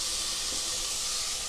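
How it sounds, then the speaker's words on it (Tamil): Tomatoes sautéing in a pan for vegetable rice, a steady, even bright sizzle holding at the same level without break. "தக்காளி ஒரு நிமிஷம் வதக்குங்க."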